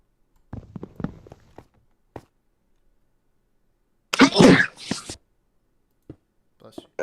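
A single loud, close sneeze bursts out in a quiet room, surrounded by a few faint taps and shuffles.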